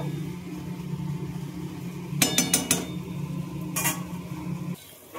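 A spoon works through spiced banana flower mash in a pan, with a few quick metallic clinks and scrapes in two short bursts over a steady low hum, which then drops away at the end.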